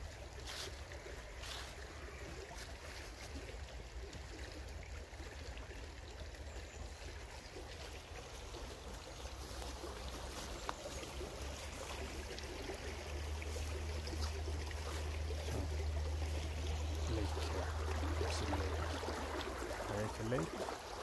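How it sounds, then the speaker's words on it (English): Steady rushing of river water heard on a nature walk beside the river, a continuous broadband wash that holds at a moderate level throughout and swells slightly toward the end, with no voices. "Very relaxing to walk next to the river."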